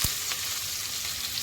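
Chopped onion sizzles and fries steadily in hot oil in a pan, a close, continuous crackling hiss with a brief stirring scrape at the start.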